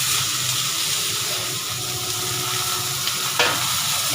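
Brinjal pieces sizzle and fry in a hot oil pan, a close, steady crackling hiss with an occasional stir or clink.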